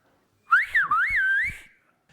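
A single person whistles a short phrase in Silbo Gomero, the whistled language of La Gomera, with sliding, wavering pitch, clear and close, much like speech rendered as a whistle.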